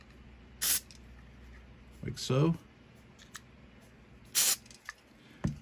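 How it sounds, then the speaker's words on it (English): Several short hissing bursts of contact cleaner sprayed around the VFO knob of an Icom IC-208H radio, separated by pauses, with a brief spoken remark in between. "get out your spray cleaner, spray around here"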